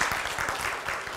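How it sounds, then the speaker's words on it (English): A church congregation applauds steadily and fairly loudly, a dense wash of clapping that holds at an even level throughout, with a faint murmur of voices underneath. "So can we give him a round of applause?"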